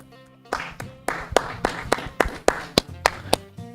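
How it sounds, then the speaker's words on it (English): Sparse, scattered clapping from a small audience at a panel event on music education, about a dozen distinct claps in an uneven rhythm, fairly close. "Let's give them a round of applause."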